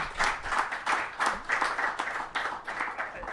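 Moderate applause from an audience at a Climate Week NYC panel event, a brief scattered patter of clapping rising and falling in waves, heard at some distance.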